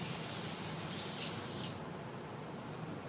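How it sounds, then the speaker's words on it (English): Water poured into a pot of free-range chicken, a steady close splashing rush that runs continuously for about three seconds, with no talk. "I don't want to add too much water."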